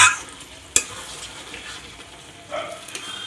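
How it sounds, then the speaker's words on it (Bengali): Luchi fry in hot oil with a soft, steady sizzle, broken by a sharp utensil clack and a brief burst of stirring. "এইদিকে লুচি ভাজা হচ্ছে এই যে লুচি ভাজা হচ্ছে"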